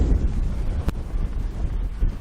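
Strong wind buffets the microphone on an open golf course, a steady low roaring rush with a brief gust spike, no talk.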